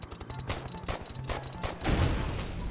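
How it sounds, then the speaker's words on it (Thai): An explosion in the Yuri's Revenge strategy game: a string of quick thumping detonations followed by a heavier, louder blast near the end, with no talking. "เดี๋ยวเรามาดูแรงระเบิดกันดีกว่า"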